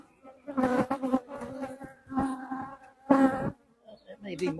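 Honeybees crowd the slatted rack of a large opened hive, buzzing close and fairly softly in uneven, swelling bursts that rise and fade several times.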